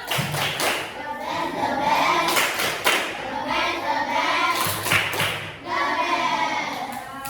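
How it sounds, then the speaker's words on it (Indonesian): A classroom of children doing a rhythmic spirit clap led by their teacher, patterned bursts of clapping and thumps with children's voices chanting along. "Yuk, tepuk semangat."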